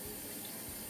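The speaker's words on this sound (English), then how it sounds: "I have a sink right next to me" A sink tap runs close by in a home bathroom, giving a steady, even hiss of flowing water with no voices over it.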